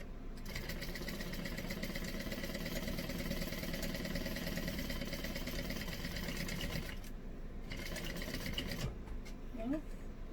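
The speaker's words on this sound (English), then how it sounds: "I'm going to sew up." A home sewing machine runs steadily as it stitches across the bottom of a tote bag, a continuous close mechanical whir with brief pauses near the end. A voice speaks over it.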